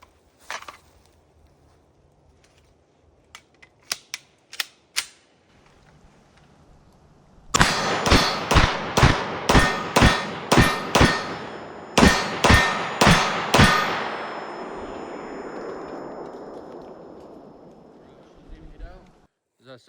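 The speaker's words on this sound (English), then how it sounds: "Now we're back with the CZ. And we'll shoot off these last 12," Rapid string of about a dozen sharp, loud CZ 9mm pistol shots fired at a range, mostly evenly spaced with one brief pause, each ringing out and leaving a long decaying echo, preceded by a few faint clicks.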